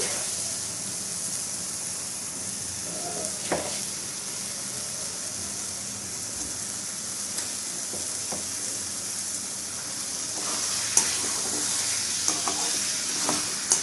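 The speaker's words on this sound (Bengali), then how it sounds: "চিনিটা দিয়েও এটাকে নেড়ে যেতে হবে" Carrot halwa with sugar is stirred in a pan with a spatula, a continuous close sizzle broken by occasional scraping strokes against the pan.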